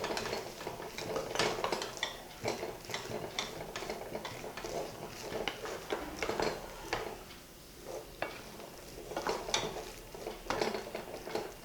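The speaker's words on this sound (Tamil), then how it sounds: "இது நல்லா கிளறிட்டு ஒரு 10 மினிட்ஸ் சிம்மில் வச்சு விட்றலாம்." A spoon stirs and scrapes potato masala in a pan with a steady run of soft metallic clinks and taps, fairly quiet and close, with no talking.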